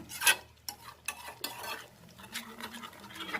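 Tomato chutney stirred in oil in a pan, a spoon scraping and clacking against the pan in uneven strokes over a faint sizzle, close and fairly quiet.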